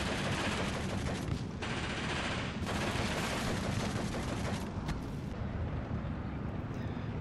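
Sustained infantry gunfire from the WWII strategy game Steel Division 2 on the Bobruisk campaign map, a dense continuous crackle of rifle and machine-gun bursts that stays loud throughout with no talking.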